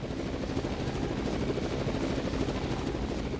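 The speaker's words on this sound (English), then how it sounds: "Oh, here come the choppers." Helicopters arriving in the disaster video game Raw Danger, a steady, dense rotor and engine roar that holds loud and unbroken throughout.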